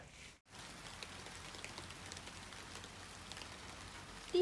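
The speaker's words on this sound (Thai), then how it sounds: "ดีใจจังเลยฝนตกจริงๆด้วย" Steady rain falls throughout, a dense wash of drops on a surface that stops for a moment near the start, then resumes at an even, moderate level with no talk.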